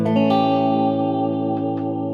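A Gretsch electric guitar played through a vintage Marshall amp with reverb and modulation, sustained chords ringing out with a washy, lingering tail and a couple of soft picked accents, loud and close with no talking.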